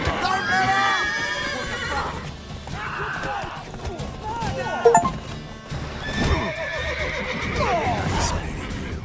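A horse in The Witcher 3 video game whinnies and neighs loudly several times, with hoof clip-clops and a brief crash in the middle, while characters talk over it.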